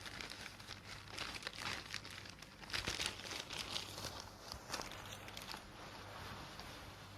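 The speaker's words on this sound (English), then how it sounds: "You may check the contents of the plastic bag by the door." A plastic grocery bag crinkles softly and continuously as lettuce, eggs, red cabbage and tomatoes are unpacked, with rustling bursts and crackles, close and quiet with no talk.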